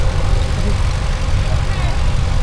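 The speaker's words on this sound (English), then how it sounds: "it's got a Leyland 600 bus engine in it, hence it sounds like a double-decker bus" A restored vintage tractor fitted with a Leyland 600 bus engine runs steadily in a show arena at a transport festival, giving a loud, continuous low diesel rumble with no breaks.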